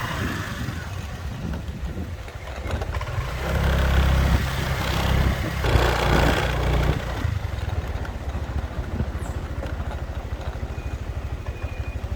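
An older motorcycle on Koh Samet island, Thailand, runs with a close, steady idling putter that swells briefly louder midway, with some wind buffeting and no talking.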